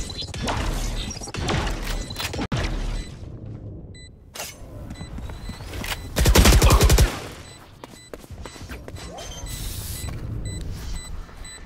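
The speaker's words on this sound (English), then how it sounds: "Grenade out." A grenade blows up in a video game shooter, a heavy burst of roughly a second landing midway amid chaotic gunfire, crashes and other battle noise.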